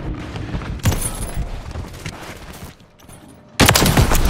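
Gunfire in Call of Duty MW3 multiplayer on the Rust map, dense bursts of rapid shots and booms that dip quieter midway before a loud volley resumes at the end.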